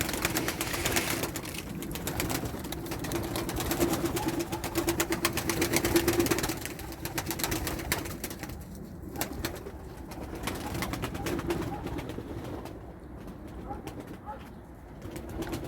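Pigeons coo near a loft in a steady, close murmur, with a faint mechanical drone underneath and occasional light rustling; a voice is heard briefly.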